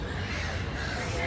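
Crows cawing among a crowd of birds at Sydney Fish Market, a steady noisy chorus of harsh calls close by with outdoor bustle and some voices underneath.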